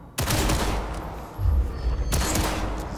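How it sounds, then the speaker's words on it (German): Target-practice gunfire in Cyberpunk 2077 comes as loud, close bursts of rapid shots, with a brief lull between two volleys and no talking. "jetzt können wir das erste Mal schießen"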